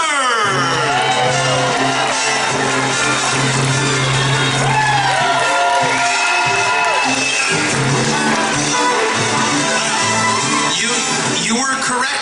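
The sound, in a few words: crowd cheering and applauding at block party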